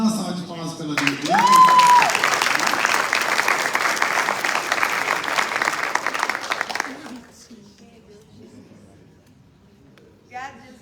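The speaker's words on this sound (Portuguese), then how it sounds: "Vamos dar uma salva de palmas pela vida dele." A church congregation breaks into loud, sustained applause for about six seconds, many hands clapping together, then it drops off sharply, leaving quiet room noise and a brief voice near the end.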